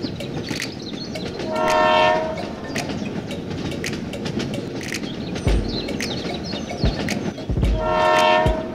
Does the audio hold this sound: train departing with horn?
yes